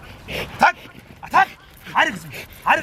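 Malinois dogs bark and yip in short bursts during attack training, four loud close barks spaced under a second apart, with a handler's voice talking around them.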